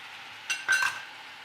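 Spices being stirred into chicken curry in a pot, two brief scraping, clinking bursts of a utensil against the pot over a quiet background.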